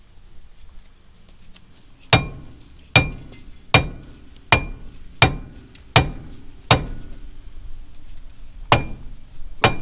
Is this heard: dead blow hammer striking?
yes